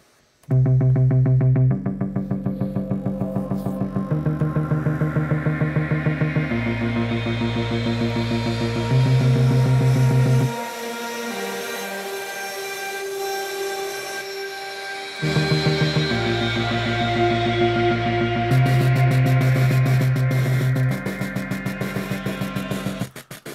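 Droning Moog synthesizer chords with a hissing wash of white noise that swells and fades, briefly standing almost alone midway.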